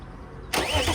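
A tuned BMW engine cranks and fires after half a second of quiet low hum, then settles into a loud, close, steady running note with no talking.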